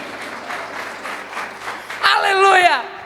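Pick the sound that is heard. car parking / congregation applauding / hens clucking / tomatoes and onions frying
congregation applauding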